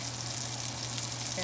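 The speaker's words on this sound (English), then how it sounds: "we're gonna saute some onions and garlic." Onions and garlic sautéing in butter in a pan, a continuous close sizzle with a light clink right at the end, brief and without talking.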